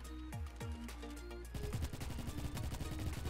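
Rapid bursts of UMP-45 submachine gunfire in the online shooter Bad Business, a few spaced shots giving way to a fast, loud automatic stream of cracks with no speech.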